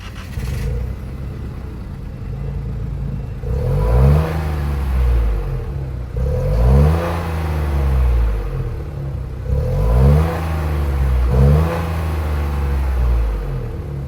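A 2024 Nissan Rogue Platinum's 1.5-liter VC turbocharged three-cylinder starts and idles close by, then revs in three or four rising and falling bursts over a steady rumble.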